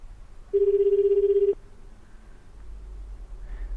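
A single phone tone in the game 428 Shibuya Scramble holds steady for about a second, then cuts off and leaves a faint low hum, with no talk.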